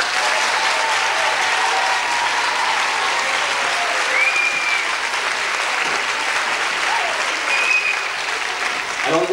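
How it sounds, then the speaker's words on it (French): A theater audience applauds after a stage show, a dense, even wash of many hands clapping that holds steady and loud for the full stretch, with a few faint whistles rising above it. "On peut les applaudir encore."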